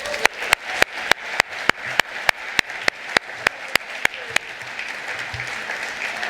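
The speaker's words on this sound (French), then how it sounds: "vous avez raison de l'applaudir" At a Cédric Villani political speech at the Trianon, sharp, evenly spaced claps ring out in a steady beat, about sixteen in a row, over a soft crowd murmur before fading into room hum.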